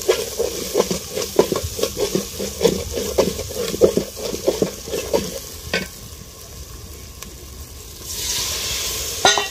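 Ginger frying in hot oil, with steady crackling sizzle and repeated scraping stir strokes against the pan, then quieter sizzling and a brief hiss near the end.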